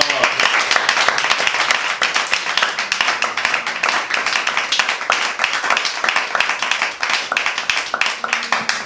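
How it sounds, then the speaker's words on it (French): A church congregation claps loudly and continuously, many hands making a dense, fast patter that carries on for nearly nine seconds at close range. "Nous pouvons acclamer cette parole."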